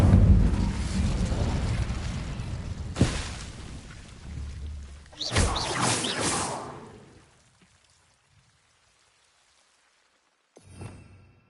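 Incendio fire spell cast in Hogwarts Legacy, a whooshing, crackling burst of flame that swells and fades over several seconds, followed by near silence and a short final flare.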